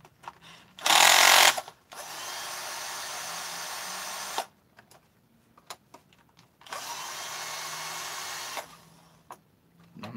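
A power tool, likely a drill or screwdriver, backs out the screws on a starter cover in short loud whirring runs: one brief burst, then two longer sustained runs separated by quiet gaps and faint handling clicks.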